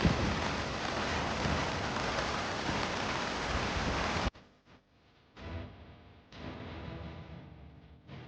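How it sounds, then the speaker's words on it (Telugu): Heavy monsoon rain pours down during flash flooding in Telangana. A loud, dense, continuous roar lasts about four seconds, then cuts abruptly to a quieter, uneven patter. "పెద్ద వాన పడతనే ఉన్నది"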